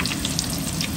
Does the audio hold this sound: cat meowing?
no